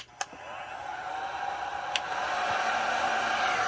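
A heat gun on high fan blows hot air over poured paint to blend the colors, starting after a couple of sharp clicks and building into a steady, near whirring rush with no talk.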